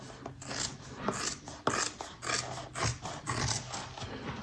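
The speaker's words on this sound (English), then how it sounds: "Start in and just trim it down on these curves." Scissors trim bag fabric around curved edges while making the Jasmine bag, giving a close, continuous run of rasping, rhythmic snips and rubs with no talk.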